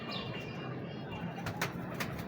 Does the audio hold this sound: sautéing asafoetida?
no